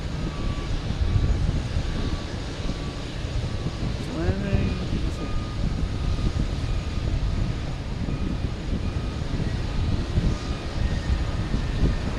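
Aircraft at Boston Logan Airport heard as a steady broad engine roar mixed with wind noise, loud and continuous throughout, with a brief faint tonal chirp partway through.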